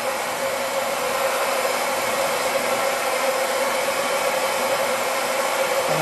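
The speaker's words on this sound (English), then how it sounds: "So I'm just lifting the hair up away, because I'm going to dry this section first" A hair dryer blows in a steady, loud, unbroken whoosh as a section of hair is dried during a bob haircut, close by with no talking.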